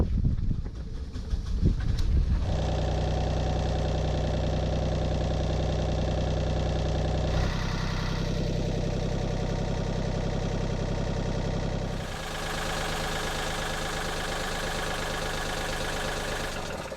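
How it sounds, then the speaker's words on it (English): An old Volvo marine diesel engine on a sailboat idles close by with a steady low chugging drone, its tone shifting slightly a couple of times. "the engine seems to be running fine"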